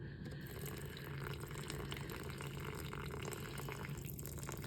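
Water is poured onto a model landscape in a steady, rushing stream, splashing broadly with a constant hiss and gurgle, close by and without any talking.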